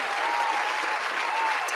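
An audience claps for Patrick in a sustained burst of dense applause, many hands together, steady and fairly loud from start to finish.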